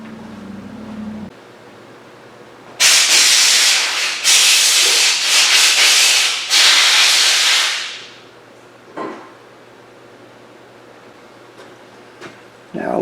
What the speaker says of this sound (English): let's go take some compressed air down that firing pin channel